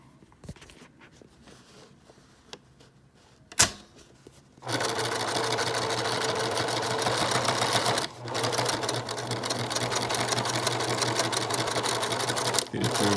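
Sewing machine stitching a fabric mask, running steadily and loudly for several seconds after a brief quiet stretch, with short pauses in the stitching.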